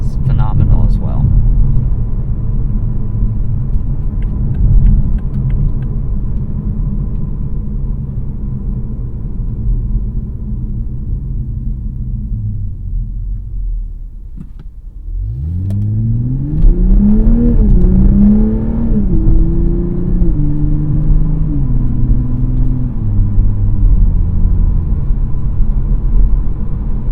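Engine of a 2021 Toyota Supra 3.0 Premium while driving, a loud low rumble that eases off, then swells into a rising revving pull through the gears, heard from inside the cabin.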